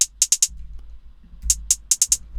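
Dry, unequalized hi-hat pattern for a beat: crisp closed ticks in two clusters, a quick run of four, a pause, then five more, over a faint low hum.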